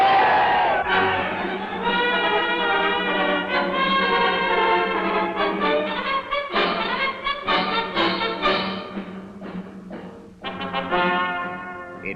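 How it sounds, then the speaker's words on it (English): Large crowd cheering and chanting for Indonesian independence in 1946, a loud, sustained roar of many voices with rising and falling shouts. "It grew out of the cheering."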